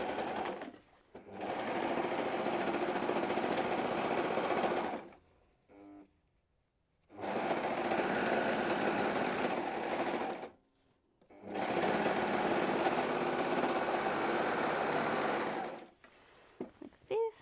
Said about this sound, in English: So I'm just going to sew down the side seams.